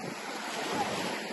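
Sea waves washing onto a sandy beach at Nha Trang Bay, a steady broad surf hiss with wind buffeting the microphone, fairly close and continuous, with no speech.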